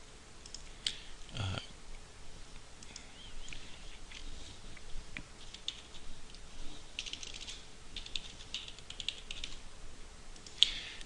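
Login details are entered on a computer keyboard: faint, irregular keystroke clicks with short pauses and a few louder taps, close by over a quiet room background.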